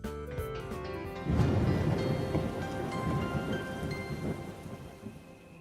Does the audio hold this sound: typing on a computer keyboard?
no